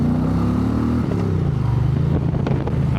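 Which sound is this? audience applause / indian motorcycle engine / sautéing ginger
indian motorcycle engine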